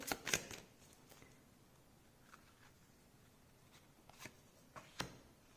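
Oracle cards being shuffled at a tarot reading: soft quick riffling and papery slaps, close but faint, clustered at the start and again near the end with quiet pauses between.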